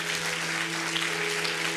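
A church congregation applauds during a celebration service, a dense and steady wash of clapping over a low electrical hum, brief and even in loudness.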